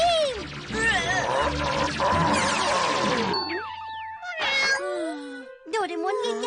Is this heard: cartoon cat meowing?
yes